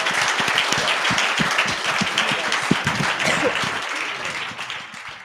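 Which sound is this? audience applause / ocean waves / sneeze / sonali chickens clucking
audience applause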